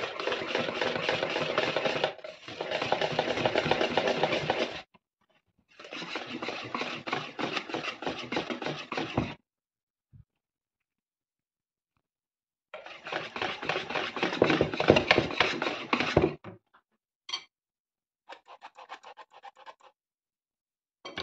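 Whisk beating flour into apple cake batter, a dense rapid scraping rattle against the bowl in several long bursts separated by silent pauses, close and fairly loud, with no talk.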